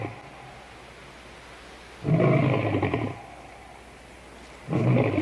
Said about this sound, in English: There's a bloody lion out here.